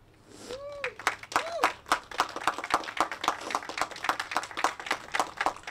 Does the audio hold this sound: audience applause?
yes